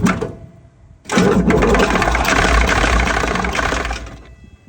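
A huge 38.8 litre V12 engine that once powered a hospital cranks briefly, pauses, then catches and roars into a loud, rough, sustained running note close by before it starts to fade.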